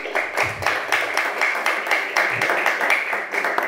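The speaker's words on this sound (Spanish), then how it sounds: "Un aplauso para Diego." An audience at a commemorative talk applauds, producing a steady, dense run of claps with a rhythmic, almost unison pulse that fills the room for several seconds.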